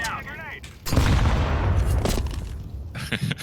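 A grenade goes off in Counter-Strike 2: a sudden, loud, close blast about a second in, trailing into a long rumbling roar with scattered crackles, while a brief voice sounds just before the blast.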